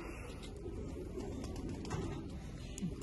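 Tiger-breed pigeons coo softly, with low murmuring calls over a steady background hum at a pigeon show.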